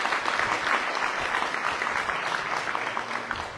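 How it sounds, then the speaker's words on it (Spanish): Audience applause at a ceremony delivering teaching materials to kindergartens in Jalpa, Zacatecas, a full crowd clapping steadily for a few seconds, dense and moderately loud, tapering slightly at the end. "Le damos un fuerte aplauso"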